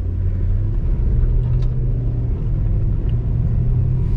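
A stock-looking sleeper car with a high-volume oil pump pulls out of a shop, its engine giving a loud, steady low rumble close by throughout, with no talking.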